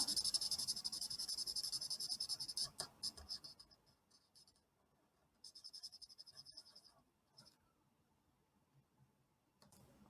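A pen scratches across paper in short, quick strokes while drawing the reflections in a pair of eyes. The scribbling comes in bursts with brief pauses between them and fades softer toward the end.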